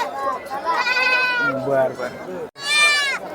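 Goats, sheep and young kids bleat loudly and close together at a busy rural livestock market, several wavering cries overlapping, with a person speaking among them.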